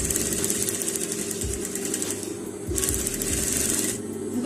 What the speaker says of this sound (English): I'm going to sew loose stitches here for gathers.